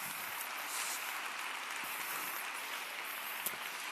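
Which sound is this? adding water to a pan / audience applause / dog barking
audience applause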